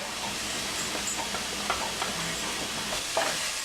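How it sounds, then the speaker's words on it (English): Mushrooms and onion sauté in a pan, giving a steady, soft sizzle with occasional stirring clicks and scrapes throughout. "while the mushroom's going, we're going to add our onion also"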